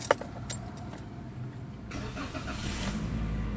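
A Toyota Avanza with a brake fault starts: keys jingle at first, then the engine cranks and settles into a low idle that rises slightly toward the end, recorded up close with no talk.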